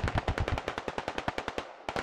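Rapid machine gun fire in the tactical shooter Squad, a steady string of about twenty close, loud shots with a brief gap near the end before firing resumes.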